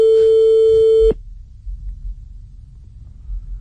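A steady telephone line tone sounds loudly during a radio call-in, then cuts off abruptly after about a second, leaving a low rumbling room background.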